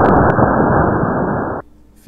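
The original water splash sound effect from Microsoft Flight Simulator 4: a single loud, noisy splash, muffled and dull, lasting over a second before cutting off abruptly into near silence.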